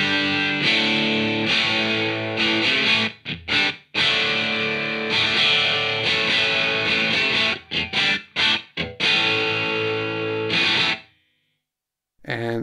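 Distorted electric guitar run through a Two Notes Torpedo Captor X with its Ribbon 160 mic simulation, loud, close riffing with sustained chords and choppy muted stabs, stopping abruptly near the end into silence.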